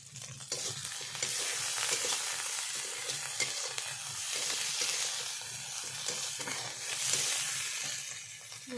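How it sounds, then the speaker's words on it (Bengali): Spice masala for a spicy sea fish curry fries in a pan with a loud, dense sizzle and hiss, broken by scraping stir strokes throughout. "মশলা ভালো করে কষে নেব"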